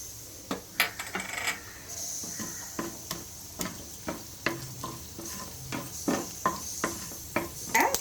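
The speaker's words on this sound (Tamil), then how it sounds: "கடுகு, உளுத்தம்பருப்பு, சீரகமும் பெருங்காயத்தூளும் போட்டு கொஞ்சம் தாளிச்சுக்கலாங்க." Mustard seeds, urad dal and cumin crackle and pop in hot oil for tempering, with sharp, irregular spitting bursts and a faint sizzle underneath, close and without voices.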